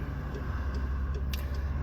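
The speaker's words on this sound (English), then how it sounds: "there's quite a lot of trucks around here" Road traffic with trucks passes a moving car as a continuous low rumble and engine drone, with faint higher clicks and squeaks over the top.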